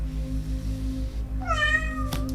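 A cat waiting outside to be let in gives one clear, drawn-out meow with rising then falling pitch, close by, over a steady low electrical hum, with no voices.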